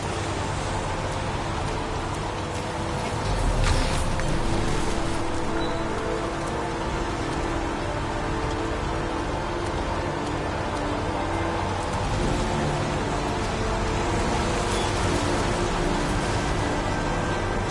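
Steady rain in the video game Heavy Rain, a dense continuous hiss of falling water on surfaces with faint distant rumbles, no voices over it.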